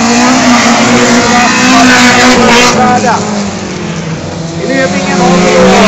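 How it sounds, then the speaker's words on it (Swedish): A Volvo rally car races past at a summer rally event, its loud engine droning steadily and swelling as it passes close by, while a commentator talks over it throughout. "han flyter ut alldeles för långt med den här Volvon"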